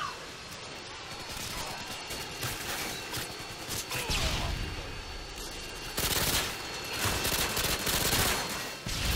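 AA-12 automatic shotgun fire in Call of Duty: Modern Warfare 2, dense rapid bursts of blasts running almost continuously with a louder stretch near the end, with a voice speaking at points.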